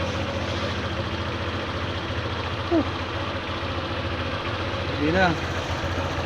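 Motorcycle engine idling steadily after a fuel pump repair, a low, even putter running throughout while people talk nearby.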